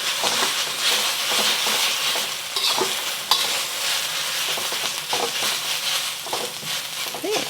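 Noodles fry in a wok with a continuous close sizzle, broken by scraping stirs and soft clatters as they are moved around; there is no talk.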